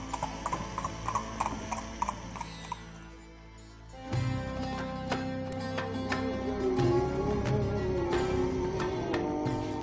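Rhythmic clip-clop of horse hooves on hard ground at the ancient ruins of Petra, a steady trotting pattern joined partway by a rolling horse-drawn carriage rumble and a faint whinny.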